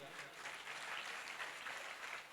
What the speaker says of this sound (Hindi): अगर तालियां बजानी है तो खुल के बजाइएगा